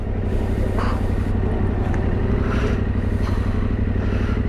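A newly bought motorcycle rides along steadily, its engine a continuous low rumble with road noise and faint rattles, close and loud throughout with no talking.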